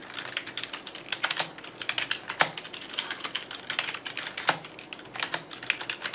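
Rapid computer keyboard typing, the kind of keystroke sound featured in keyboard product content: close, crisp clicks in a steady, uneven patter with a few louder strikes, and no voices.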